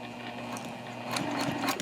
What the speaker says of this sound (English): I'm just going to use the edge of my presser foot to sew that down